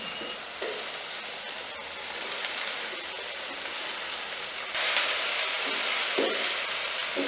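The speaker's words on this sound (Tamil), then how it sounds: "இந்த வெட்டி வச்சிருந்த வெண்டிக்காயை இதில் கொஞ்சம் கொஞ்சமாக சேர்ப்போம்." Chopped okra frying in a pan at a village cooking setting, a loud, continuous hiss and sizzle that swells midway as more pieces go in, with occasional stirring scrapes underneath.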